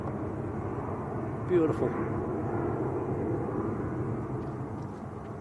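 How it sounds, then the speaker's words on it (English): An Airbus A350 departing Manchester Airport, a broad steady jet roar heard from a distance and holding constant throughout, with a brief spoken remark partway through. "We'll love a good A350 departure."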